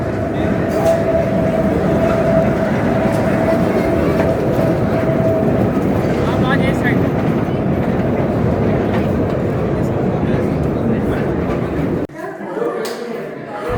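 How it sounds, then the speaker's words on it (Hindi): The Khewra Salt Mine train rolls out of its tunnel with a loud, steady rumble and rattle of wheels that fills the scene before suddenly dropping away near the end, with voices faintly mixed in. "ये जी ट्रेन है जो अंदर से आती है।"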